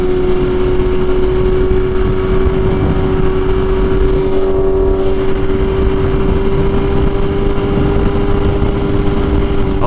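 Motorcycles idling and running at a gas station produce a loud, constant engine drone with a steady hum, close and unbroken throughout, with no talk.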